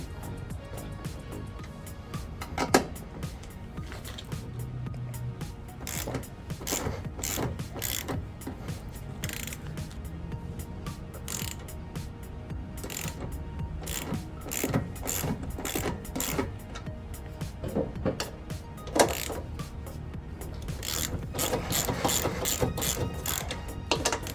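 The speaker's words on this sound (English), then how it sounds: "I'm just going to loosen everything up right now." A hand ratchet loosens bolts on a Datsun 280ZX Turbo front strut brace, giving repeated bursts of sharp clicking in an uneven rhythm over a quiet background.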